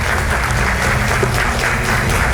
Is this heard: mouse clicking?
no